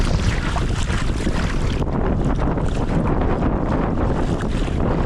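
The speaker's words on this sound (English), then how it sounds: "Hard work pushing against the wind." Strong wind buffeting a small boat on Loch Tummel, a loud, steady roar of gusts and microphone rumble with water noise underneath, with no voices.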